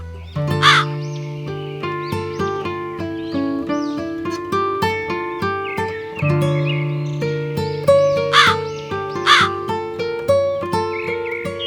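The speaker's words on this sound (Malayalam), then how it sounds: "മോളുടെ നെയ്യപ്പവുമായി കാക്ക നേരെ പോയത് ഒരു കാട്ടിലേക്കാണ്." A crow in an animated children's story gives a few loud, harsh caws that stand out above a bouncy, steady musical accompaniment.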